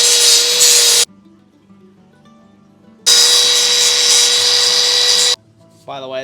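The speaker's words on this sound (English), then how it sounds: "It's an angle grinder meant for cutting metal, but I have found it does do the trick from time to time." A metal-cutting angle grinder cuts plastic air-line pipe in two loud, sustained bursts separated by a quiet gap, close up with no talk.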